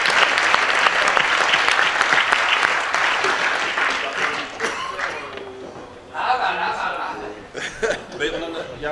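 Audience applause at a BNI Osmose chapter launch event in Illkirch, loud dense clapping for about five seconds, then thinning into scattered claps with some chuckles and voices in the room.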